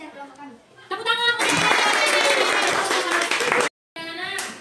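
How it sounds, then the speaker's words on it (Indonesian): A school class claps hands after a group presentation; children's voices come first, then a loud, close burst of classroom clapping lasts nearly three seconds, stops abruptly, and talking resumes. "Tepuk tangan"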